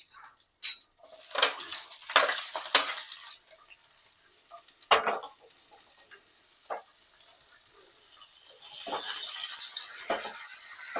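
Five-spice seeds, chopped ginger, green chilli and tomato sizzle in a pan, with several sharp clattering stirs and scrapes early on and a steadier hissing fry building toward the end.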